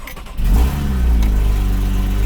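Porsche 981 Cayman S with Fab Speed race headers cranking and firing up, a quick rev flare settling into a loud, deep, steady idle rumble heard close up, with no talk.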